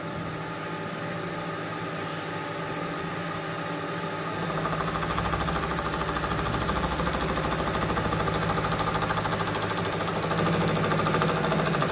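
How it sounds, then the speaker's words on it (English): Milling machine taking a final 3mm cut on a welding notch for a custom sprung seat on a Harley Road King chopper, a steady loud mechanical grind and hum that thickens partway through and runs continuously. "Go a final mill, I think 3mm will be enough."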